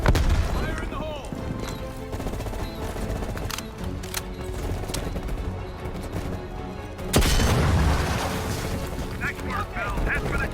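A blast goes off after a grenade warning in Call of Duty Black Ops Cold War, a sudden loud boom about seven seconds in, amid gunfire, battle noise and spoken voices.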